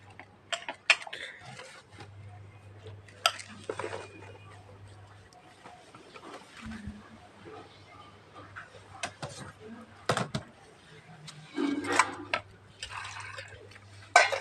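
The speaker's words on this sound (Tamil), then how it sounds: "இதோ இந்த கீரையை இதில் கழுவிக்கிறேன்" Spinach greens being washed by hand in a pot of water in a home kitchen, with scattered splashes, drips and sloshing in irregular bursts, quiet in between, and a low steady hum underneath.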